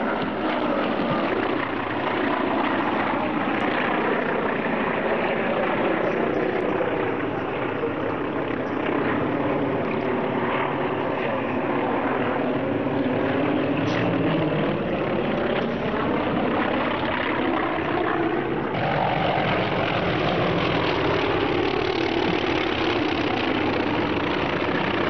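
A Polikarpov aircraft's radial engine runs continuously, a loud, rough, aggressive drone with slowly shifting pitch, heard close throughout with no talking.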